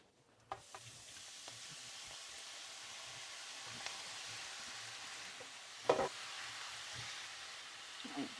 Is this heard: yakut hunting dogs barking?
no